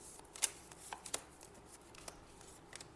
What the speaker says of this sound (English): to cleanse and shuffle all the decks